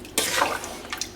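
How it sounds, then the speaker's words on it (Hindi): Water pours into a pot of rice for chicken pulao, a short splashing gush that starts abruptly and trails into a light bubbling trickle, close and fairly loud. "5 कप टोटल पानी डालना है।"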